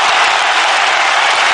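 A dense, steady crowd roar with clapping mixed in at a Burns Night carnival on Glasgow Green, loud and continuous throughout without a break.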